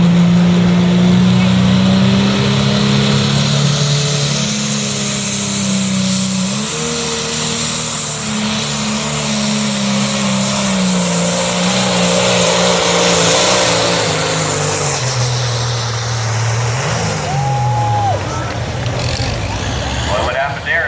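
A pulling tractor at a truck and tractor pull at the Buck roars at full power, loud and close, with engine pitch shifting as it strains down the track, and an announcer talks over it.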